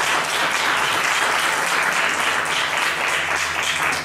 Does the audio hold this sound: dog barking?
no